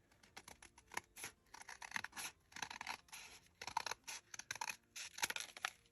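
Scissors cut paper for a junk journal cover made from an old book: a quiet, close series of crisp snips and rustles in an uneven rhythm, with no speech.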